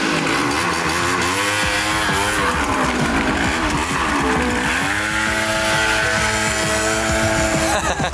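A scooter revs hard and rides off fast, its engine whining and rising in pitch loudly and continuously close by.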